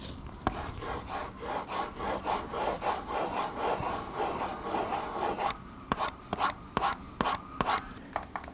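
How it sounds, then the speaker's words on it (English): Pen nib of a Ugee M708 V3 tablet scratching across a matte textured drawing surface, a close, soft raspy rubbing in steady strokes, breaking into short separate taps and dashes toward the end. "Here's how the pen nib sounds on the surface."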